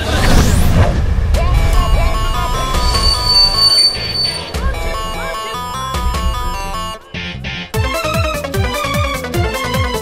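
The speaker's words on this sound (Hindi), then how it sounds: "ट्रेन आ गई चलो लो ट्रेन आ गई" An Indian passenger train pulls into a station with loud, shrill wheel squeals and screeching brakes over rumbling carriages. It is close and sustained, with a short clattering break near the end.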